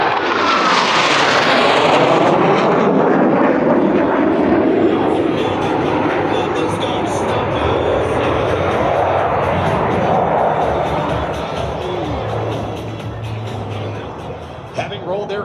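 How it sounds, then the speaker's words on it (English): Blue Angels fighter jets approach the flight line at about 400 mph during an airshow in Augusta, a loud sustained jet roar that sweeps past and slowly fades, with no clear talk over it. "Blue Angels 5 and 6 are approaching the flight line at 400 miles per hour"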